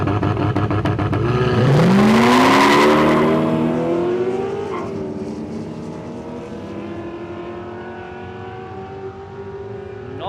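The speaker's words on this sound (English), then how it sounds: "Nice run that time from the Ferrari." Ferrari launching on a drag run on an airstrip, engine roaring loudly as it revs up through rising gear pulls, then fading into the distance as the car speeds away.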